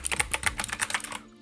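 Fast typing on a computer keyboard with blue switches, a quick, loud run of crisp clicky keystrokes close up, then stopping abruptly.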